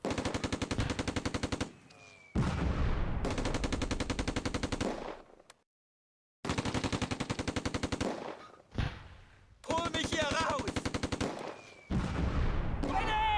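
Rapid machine-gun fire and rifle shots ring out in the WWII strategy game Close Combat: A Bridge Too Far at Arnhem Bridge, loud dense bursts broken by short pauses and one full silence.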